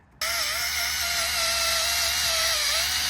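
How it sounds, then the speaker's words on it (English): A handheld polisher with a small buffing disc works on a car headlight, starting after a brief quiet moment into a steady, loud, high whine that holds pitch with slight wavering throughout. "I've got my handheld polisher here with a small buffing disc on it."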